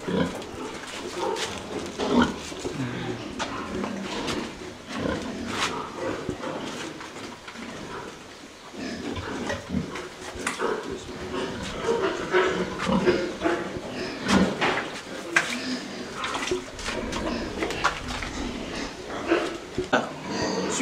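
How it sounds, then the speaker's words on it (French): A large sow on a farm grunts and shuffles close by, with a steady mix of low snorts and movement under ongoing talk. "Regardez cette grosse truie, les amis."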